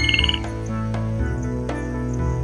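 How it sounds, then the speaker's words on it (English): A cartoon frog in an animated show croaks in a quick run of bright, repeated chirping squeaks at the start, over steady background music with sharp accents. "had caught the frog that went squeak"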